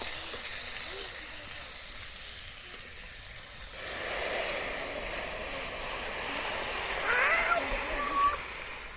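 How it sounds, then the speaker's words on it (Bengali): Chopped onion hits hot oil in a pan alongside a bay leaf and dried chillies, giving a steady close hiss and sizzle that swells after a few seconds and carries on without a break. "এখন দিয়ে দিচ্ছি কুচানো পেঁয়াজ"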